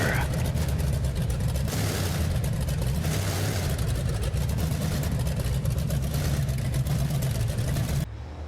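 Chevrolet monster truck engine revving loudly in a BeamNG Drive Monster Jam small-arena event, a dense sustained roar with surges, cutting off abruptly near the end.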